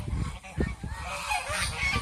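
Nasal honking calls from waterfowl overlap close by, several birds calling in quick, uneven bursts against a noisy background.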